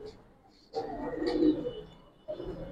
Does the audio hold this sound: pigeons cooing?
yes